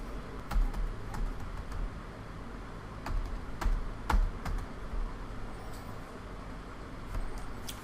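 Keys on a computer keyboard are pressed in a sparse, uneven sequence of close, sharp clicks while a mobile number is entered, set over a low steady room hum.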